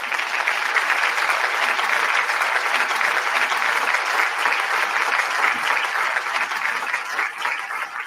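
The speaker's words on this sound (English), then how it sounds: "Y'all give Sports 263 a round of applause." A steady round of applause, a dense even roar of many hands clapping that carries on at full strength for several seconds before easing slightly at the end.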